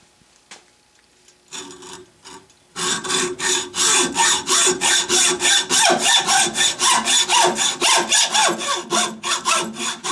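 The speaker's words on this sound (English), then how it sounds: "this is the inaugural run for this beautiful high-tension Lennox hacksaw that Paul sent me" A high-tension Lennox hacksaw with a new Lennox blade cuts through metal after a few light taps, settling into a loud, close, rhythmic rasp of steady push-and-pull strokes that keeps going to the end.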